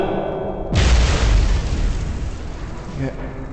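A loud explosion in the Wolfenstein game booms suddenly after a short stretch of game sound, then leaves a long, dense rumble that slowly thins out.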